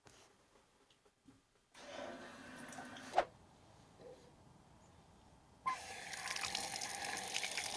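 Water gushes from a repaired outdoor spigot in bursts, starting after a quiet moment, stopping with a clunk, then flowing again as a steady hissing stream; it is close and moderately loud, with no talking.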